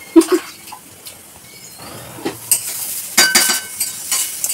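Banana stem (thor) is stirred and fried in a pan, with close clinks and scrapes of a utensil over a soft sizzle. Louder bursts of stirring come near the end.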